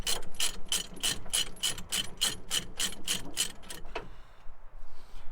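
Ratchet tensioners being worked to release truck load chains: about a dozen evenly spaced metallic clicking ratchet strokes, close and sharp, followed by a short clank and quieter handling sounds.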